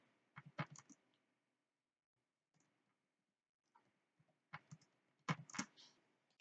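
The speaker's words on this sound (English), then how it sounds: "So I'm typing in my address." Bursts of keyboard typing, quick clicking keystrokes in two short runs separated by a pause of near silence, close and fairly quiet.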